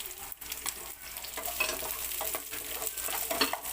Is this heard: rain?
no